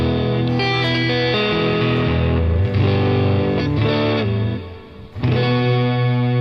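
Electric guitar chords played through Archetype Misha Mansour clean channels ring out with a clean, shimmering tone and a wash of reverb, strummed steadily and played alone.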